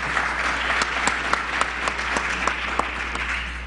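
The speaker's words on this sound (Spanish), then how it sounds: "Un aplauso para Yanina, por favor" Audience applause at a LACNIC policy forum session, a steady crowd clapping with distinct individual claps standing out, moderately close and sustained throughout with a low hum underneath.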